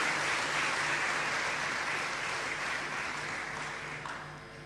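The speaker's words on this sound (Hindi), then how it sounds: "जोरदार तालियों से अपने मुख्यमंत्री साहब का स्वागत करें" Applause from a hall audience welcoming the chief minister at a credit camp for women's self-help groups, a dense, steady wash of clapping that gradually fades toward the end.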